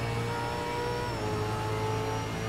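A V8 Supercar engine drones loud and steady in Assetto Corsa at Pukekohe, holding a sustained high-revving tone with a slight pitch shift as the car powers toward the main straight.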